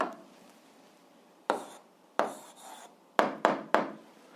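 Chalk or marker strokes on a board while an algebra answer is written out: a few separate scratchy bursts, then a quick cluster of three near the end, close and fairly quiet with no talking.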